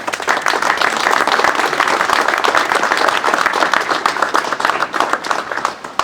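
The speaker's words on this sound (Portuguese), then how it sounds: "eu pedia uma salva de palmas para vos incentivar a continuar nesta nova missão" Volunteer firefighters receive a loud, dense round of applause from a gathered crowd at their fire station, continuous rapid clapping sustained evenly for several seconds.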